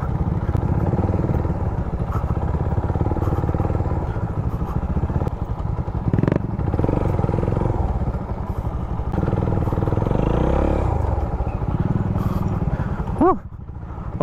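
A Suzuki Raider 150 motorcycle ridden off-road on a rough track near a lighthouse, its engine droning steadily close by with clattering over bumps and a brief rev near the end; someone talks over it.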